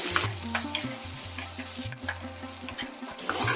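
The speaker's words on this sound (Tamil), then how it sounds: "உருளைக்கிழங்கு சேர்த்து வெங்காயத்து கூட நல்லா வதக்கி விட்டுருவோம்" Potatoes and onions sizzle and sauté in a hot pan, with a spatula scraping and stirring in uneven strokes, close up and steady.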